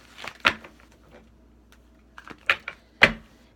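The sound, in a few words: shuffling a deck of oracle cards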